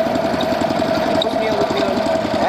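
A boat engine at Mangla Dam chugs with a steady, rapid knocking rhythm, loud and close, while a voice talks over it.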